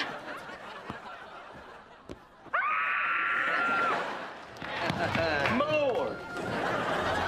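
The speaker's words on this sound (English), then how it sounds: "You go scream into your screaming pillow." A girl lets out a long, loud, muffled scream into a pillow, rising abruptly and holding for over a second, followed by further strained wails and gasps, with some quieter laughter-like sounds before it in a comedy scene.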